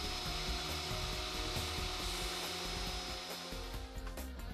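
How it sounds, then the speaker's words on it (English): A core drill bores anchor holes for a pool anchor, a loud, continuous grinding whine with a steady high tone and rough, rattling texture running the whole time. "Core drill at all 4 holes."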